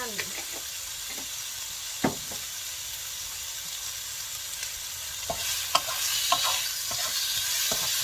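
Pork belly and Chinese sausage fry in a pan of rendering fat, giving a steady close sizzle and hiss throughout, with occasional sharp pops and spatula knocks.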